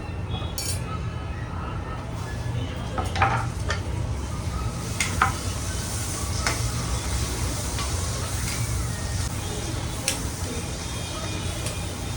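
Tomatoes with spices frying in a pan, a low steady sizzle with occasional utensil clinks and stirring taps against the pan, faint throughout.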